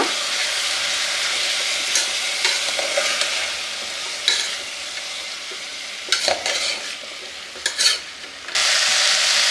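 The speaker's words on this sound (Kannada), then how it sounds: "ಈಗ ಇದನ್ನು ಮಿಕ್ಸ್ ಮಾಡ್ಕೊಳ್ಳೋಣ." Curry ingredients for a split chickpea kootu being stirred and mixed in a pan, steady scraping strokes over a soft sizzle with a few sharper utensil clacks against the pan, close and fairly loud, no voices.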